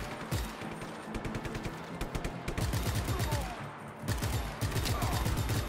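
Gunfire in the video game Just Cause 3, with loud, rapid automatic bursts that repeat and break off briefly before resuming, dense and close.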